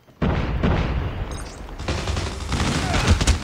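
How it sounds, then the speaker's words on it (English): Machine gun fire in the Call of Duty video game: a loud, sustained burst of rapid automatic shots that starts abruptly and continues with booming impacts, with a voice faintly present underneath. "I'm gonna definitely use my machine gun now."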